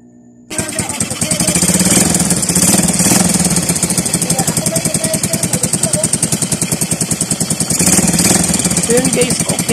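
A motorcycle engine with a muffler attached kicks in and runs steadily with a rapid, even throb, close by and loud, continuing without pause.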